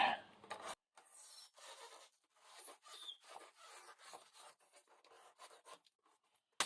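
Blade or hot wire cutting a curve through foam for a tabletop wargame terrain base, heard as close, faint, intermittent scratchy rasping strokes with short pauses between them.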